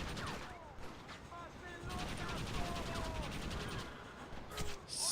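Rapid sustained bursts from a crank-operated machine gun in the Red Dead Redemption western game, a dense clattering stream of shots with brief lulls, loud and close throughout with some voice mixed in.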